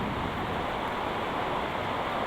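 Heavy rain and strong wind beat around a hut in a banana garden, making a dense, unbroken wash of loud broadband noise with no voices.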